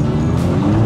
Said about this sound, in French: Oh, le bruit. Oh là là, TTS qui sort la M5 F10 au même moment